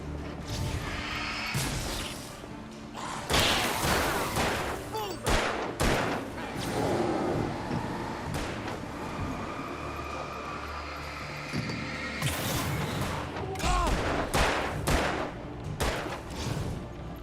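Gunfire rings out while enemies are shot in Alan Wake on Xbox 360, with scattered bangs and impacts tangled in dense, loud game noise and effects, and voices talk intermittently over the action.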